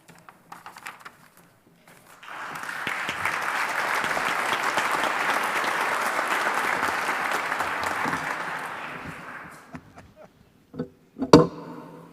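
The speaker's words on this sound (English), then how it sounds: "He gets a round of applause." A church congregation breaks into a round of applause that swells for several seconds, holds steady, then fades to scattered claps and a few louder final claps.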